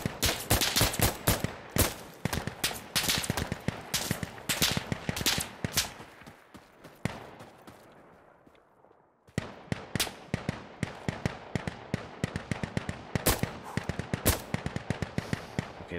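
Video game gunfire from another player: long runs of sharp, rapid shots, some in tight bursts, broken by a few seconds of near silence before the shooting resumes just as loudly.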